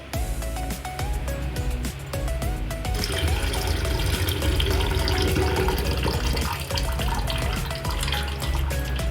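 Foxtail millet is rinsed under running water, a continuous close gush and swirl of liquid with sloshing and clinking against a container.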